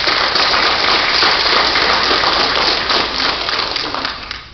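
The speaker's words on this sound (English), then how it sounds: "one more round of applause for these great guys" Audience applause at a school board meeting, a dense, steady clatter of many hands clapping that gradually thins out toward the end.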